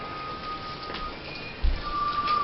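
Rain falls in a steady soft patter, moderately quiet and continuous, with a brief low thump partway through and no speech.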